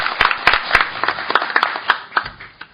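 Applause in a Korean seminar hall welcoming Professor Jeong Chang-su of Kyung Hee University's Humanitas College, a fairly close mix of scattered claps with a few sharper individual hand claps standing out, no voices over it.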